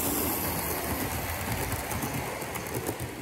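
A Hornby R.069 Inter-City 125 High Speed Train model runs toward the listener, giving a steady, close whirring rumble of motor and wheels on track that holds level for about three seconds with no talk.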